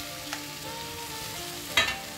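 Tomatoes, coriander and mint being stirred into capsicum frying in a pan, a soft steady sizzle with a quick scrape of the spoon near the end, no talk.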